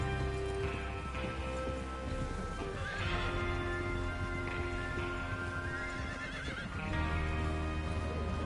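Horses in the Red Dead Redemption 2 video game whinny several times over steady clip-clop of hooves, the neighs rising and falling across the clip amid soft ambient patter.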